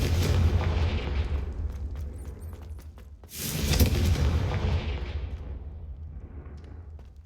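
Two fiery blasts from the Confringo spell in the Hogwarts Legacy video game, set in Rookwood Castle, each a loud booming explosion with long rumbling decay, the second erupting about halfway through.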